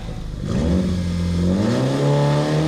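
A Mitsubishi Lancer Evo IX launches from a standstill and accelerates hard, its engine note climbing steadily in a loud, close rising roar over about two seconds.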